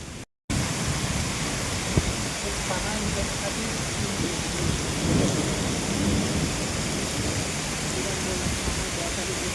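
Heavy rain pours in a dense, steady roar, constant and loud throughout after a brief dropout at the start.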